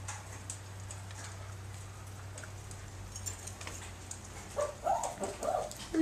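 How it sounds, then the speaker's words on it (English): A dog cries and whimpers nearby in short, rising bursts toward the end, over a steady low hum on a damp morning after overnight rain. "And you can hear this dog over here crying."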